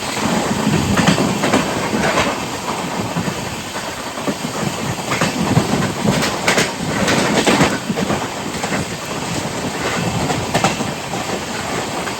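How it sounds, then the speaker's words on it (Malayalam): From aboard the Netravati Express sleeper-class passenger train, a goods train passes alongside, filling the air with loud continuous rumbling roar, rattling and rhythmic clickety-clack of wheels over rail joints, steady for the whole stretch. "നമ്മളിപ്പോൾ ക്രോസിങ് നടത്തിയത് ഒരു ഗുഡ്സ് ട്രെയിനായിട്ടാണ്."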